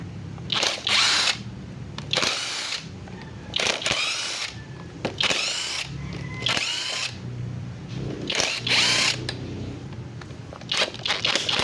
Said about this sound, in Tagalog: Magtatanggal na tayo ng mga tornilyo.